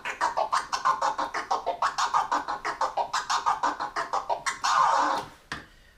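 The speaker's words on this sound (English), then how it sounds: "If I pull the record back and keep clicking on the fader," A DJ pulls a vinyl record back on a turntable while rapidly clicking the crossfader, producing a fast train of choppy, stuttering scratch bursts and ending on a longer smeared scratch, close and loud.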